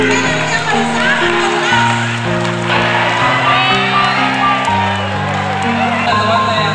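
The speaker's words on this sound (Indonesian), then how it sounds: "Kasih tepuk tangan yang paling sahabat." Students at a school Ramadan program clapping together in a hall, a dense sustained round of applause with cheers and whoops, loud and close, while music and voices continue underneath.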